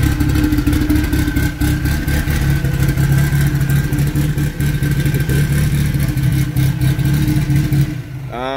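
A turbocharged four-wheel-drive Mitsubishi Colt with a 4G63 turbo engine running on an E85 and pump-gas mix, idling loud and steady at close range with a rough, lumpy rumble. The sound cuts off abruptly near the end.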